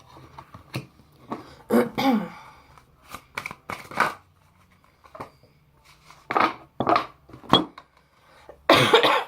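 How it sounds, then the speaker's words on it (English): Repeated coughing rings out close by, in short harsh bursts separated by brief pauses, some coming in quick pairs. "I do apologise if I cough through this."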